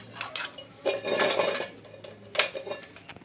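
Dishes, pots and containers being scrubbed and washed, bursts of clattering metal and scraping that come and go, fairly close, with no talking.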